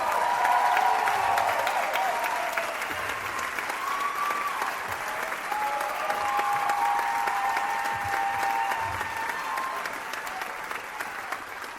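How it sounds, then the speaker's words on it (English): Sustained applause from a crowd, steady and fairly loud throughout, with faint voices and cheers mixed in. "Come and give them a round of applause."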